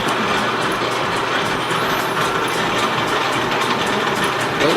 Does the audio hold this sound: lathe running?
yes